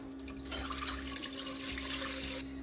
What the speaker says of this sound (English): We're gonna add the broth.